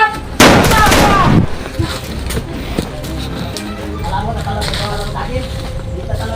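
Gunfire in a Filipino comedy skit: one loud burst of gunshot noise lasting about a second near the start, followed by quieter background clatter and people talking.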